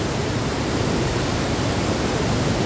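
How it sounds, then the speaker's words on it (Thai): Waterfall at Pa Ba Falls, a cloudy-water cascade, heard as a loud, unbroken broadband roar of falling water filling the whole moment at close range, with no voices. "จะได้เห็นน้ำตกไปด้วยครับ"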